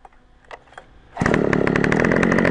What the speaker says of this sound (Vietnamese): Khởi động thì chúng ta vẫn bật công tắc lên và dần nổ.